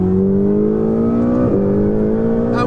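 A loud, droning Ferrari 488 GTB turbo engine note fills the car interior, pitch climbing steadily, dipping briefly at a shift, then rising again.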